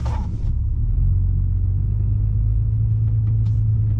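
A 4th gen Cummins diesel truck driving in four-wheel drive high with a shimmy, giving a steady, loud, low rumble throughout with brief lighter sounds near the start and end.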